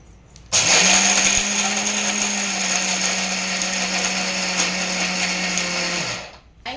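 A kitchen mixer grinder whirs at a loud, steady pitch for several seconds while grinding jaggery, then winds down and stops.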